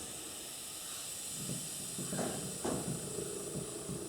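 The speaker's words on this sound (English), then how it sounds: "you give it a shot of air with the tire inflation gauge" Compressed air hissing from a tire inflation gauge in a workshop, a steady soft hiss with a few faint bursts of added airflow over it.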